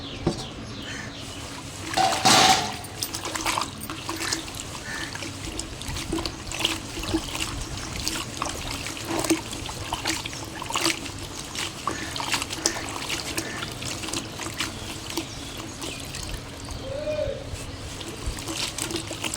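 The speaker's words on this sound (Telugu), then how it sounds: "మునగాకుని చక్కగా నీట్గా కోసేసుకున్నాక ఇలా నీట్గా కడిగేసుకోవాలి" Drumstick leaves get rinsed under running water, a soft continuous trickle and splashing with light patter and a brief louder splash early on, close and fairly quiet, with no voices.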